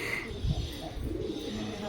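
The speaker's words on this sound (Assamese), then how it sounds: "ইয়াত মানে পাৰ চৰাই বহুত আছে।" Pigeons cooing softly at a temple pond in Sivasagar (Joysagar), a low murmuring coo near the middle, set against steady outdoor background noise.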